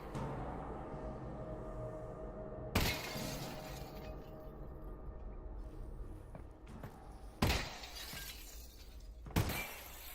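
Glass shatters three times in Half-Life: Alyx, each break a sharp, bright crash with a short tinkling tail, spaced several seconds apart over a quiet, low game ambience.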